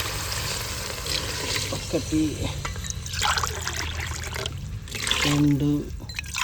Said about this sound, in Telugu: 8 గ్లాసుల నీళ్ళు పోసుకోవాలి